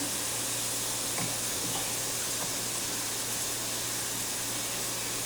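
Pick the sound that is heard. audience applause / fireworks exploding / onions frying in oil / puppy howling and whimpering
onions frying in oil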